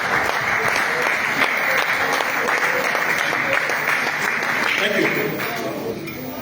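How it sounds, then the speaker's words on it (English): A crowd at a ceremony stands and applauds teachers, a thick, continuous clapping that holds steady for several seconds and then softens slightly near the end. "Let's stand up and give them a round of applause"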